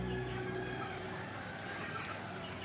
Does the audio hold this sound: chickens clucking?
yes